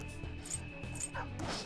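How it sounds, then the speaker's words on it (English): Puppy in the video game Persona 5 Royal giving several soft, yipping barks and whimpers in a quick rhythm over quiet game background sound. "It's a puppy."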